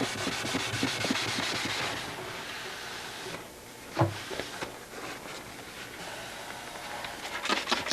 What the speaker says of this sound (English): So I've run through a series of grits on my sandpaper here.